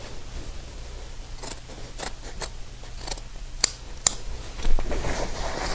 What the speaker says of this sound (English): Come on, scissors.